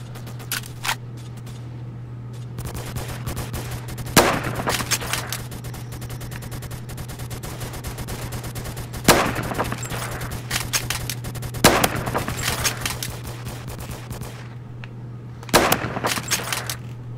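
Gunfire in a first-person shooter game: bursts of sharp shots and rapid automatic fire that come and go over a steady low hum, with several loud cracks standing out.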